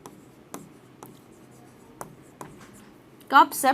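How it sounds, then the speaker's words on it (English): Notes written on a board during a biology class: a few sharp, sparse taps and scratches spaced about half a second apart, fairly quiet, then a louder squeaky stroke near the end. "first let's write cup shaped chloroplast"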